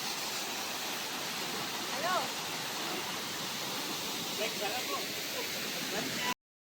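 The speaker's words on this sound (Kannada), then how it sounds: "ನಾವಿವಾಗ ರೀಚ್ ಆಗಿರೋ ಹಿಡನ್ ಫಾಲ್ಸ್ ಅಂತ ಹೇಳಿದ್ನಲ್ಲ," A hidden waterfall at Shabari Kolla near Sureban, Ramdurg, gives a continuous rushing hiss of falling water, with faint voices and birdlike chirps briefly above it.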